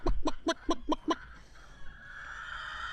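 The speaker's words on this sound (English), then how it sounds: "Go check on the chickens and the pig." Leghorn chickens cluck close by in a quick series of about six short clucks, followed by faint background noise.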